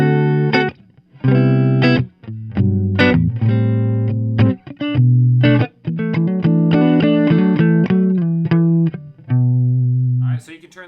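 Clean electric guitar through a tube-driven Fender '65 Deluxe Reverb reissue amp, played as bright chords and single notes in phrases with short pauses, loud and close, with no talking.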